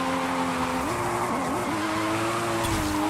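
Engine of a drifting car in Forza Horizon 5 holds a steady drone with tone shifts as the handbrake is pulled and the car slides, continuous and close, with no one talking.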